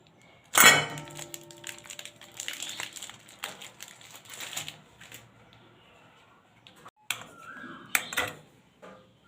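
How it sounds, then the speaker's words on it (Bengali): A knife cuts a bar of homemade orange-peel soap into small pieces on a hard surface, giving a sharp opening crack followed by scattered scraping and tapping chops, close and moderately loud, with a few pauses between cuts. "আমি ছুরি দিয়ে ছোট ছোট করে কেটে নেব।"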